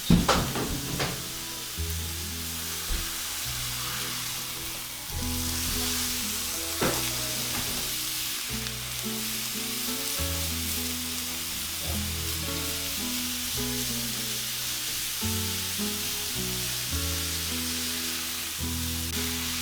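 Ground beef and onions sizzle steadily in a hot pan, with a spatula scraping and stirring in uneven strokes through the constant close frying hiss, and no one speaking.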